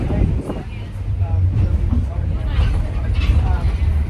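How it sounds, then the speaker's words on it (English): A bus rumbling along on the road to Lautoka, Fiji, with a steady low engine drone and road noise throughout, loud and close, with people talking over it. "Back on the bus"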